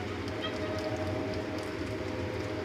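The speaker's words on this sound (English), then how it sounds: "Train going by." A train passes during a rainy day outdoors, a steady loud rumble with rolling low-end and wheel noise, continuous throughout with no talking.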